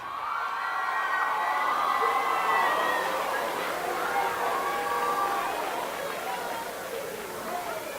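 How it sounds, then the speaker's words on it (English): A school audience at an eighth grade awards ceremony cheers and claps for the undefeated middle school football boys, a continuous crowd roar with shouts and chatter over about eight seconds. "Eighth grade gentlemen, stand up and get you a round of applause."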